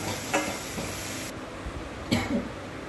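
Chopped spinach stirred in a kadhai, with soft scraping and light sizzling, a few louder clinks of the spoon against the pan, quiet and close.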